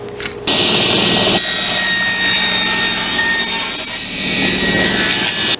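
A table saw rips through wood for small benches, a loud steady whine of blade on timber after a brief start, running alone with no talk.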